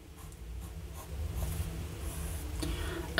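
Lamy Safari fountain pen with a fine nib scratching softly across paper in close, continuous strokes, quiet with slight rises, and nobody speaking.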